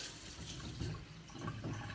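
Water runs steadily from a household kitchen tap so a cat can drink, a continuous close hiss with slight splashing fluctuations and no talking.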